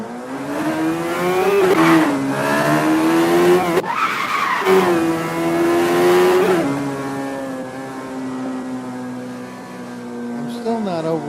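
A car engine revs up and down in long swelling pitches while tires squeal and skid, loud and close, the tones sliding and breaking off before a quieter tail; it has a slightly artificial, tuned quality.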